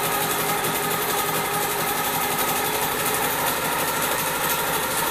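A sewing machine runs steadily at speed, quilting a herringbone leaf pattern with heavy thread, a dense close whirring hum with no pauses.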